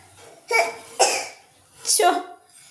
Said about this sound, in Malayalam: അതുകൊണ്ടാ ചുമച്ച് കാണിക്കണേ